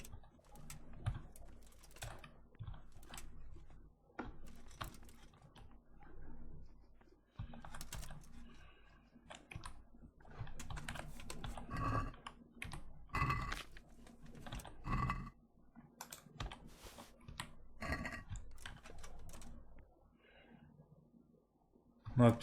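A monk in a medieval monastery scriptorium in Kingdom Come: Deliverance copies a book by hand, quill scratching in soft irregular taps and strokes, faint and close, with a murmuring voice now and then over a quiet room.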